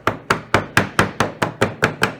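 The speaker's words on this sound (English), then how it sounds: "let me grab my hammer here" Nine evenly spaced hammer blows drive a wooden wedge into place on a latch project, each strike sharp, close and loud with a quick decay, in a steady rhythm and with no talking.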